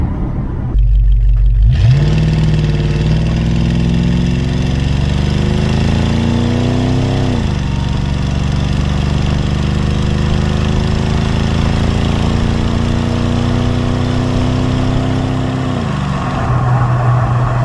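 A 1970 Dodge Coronet's 318 four-barrel V8 with dual exhaust rumbles steadily at close range, its pitch rising as it revs up, then dropping back to a deep, throaty idle.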